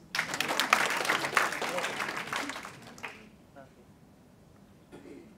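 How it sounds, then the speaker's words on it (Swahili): An audience at a stand-up comedy show gives a burst of applause that lasts about three seconds and then fades to near quiet. "Nipigeni makofi basi"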